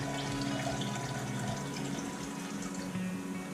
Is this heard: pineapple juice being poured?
yes